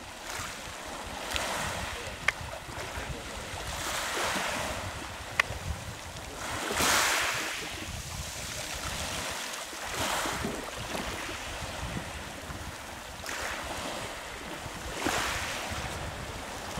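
Waves rolling onto a beach on the Crimean coast between Feodosiya and Novy Svet, with several surges washing in and out amid gusty wind on the microphone.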